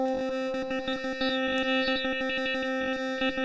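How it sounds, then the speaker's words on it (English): Rhythmically gated synth tone run through WaveStepFX, a reverb blended with a filter, stuttering in rapid chopped pulses with a bright, distorted, shimmering tail throughout. "an interesting sound starts to emerge as we're blending this filter with the reverb time traveling system"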